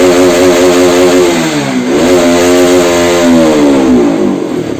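A Bajaj RS200 motorcycle engine is held at full throttle despite a pickup problem, producing a loud, close, steady droning rev that dips briefly and climbs again without talk.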